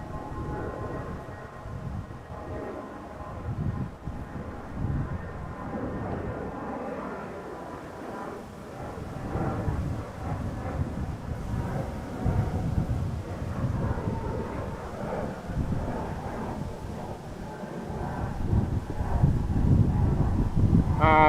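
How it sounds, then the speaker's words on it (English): A Transavia airliner taking off at Amsterdam Schiphol, heard as a distant, rising jet roar that builds under wind noise. "Transavia taking off in the background"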